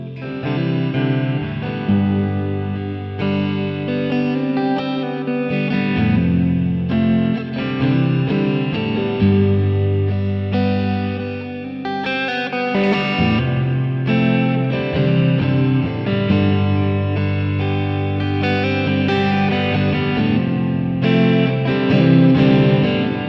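A PRS SE Silver Sky electric guitar played through a Dumble amp preset, with chords and single-note lines ringing out loud and warm under light chorus and echo, sustained and continuous with no talking.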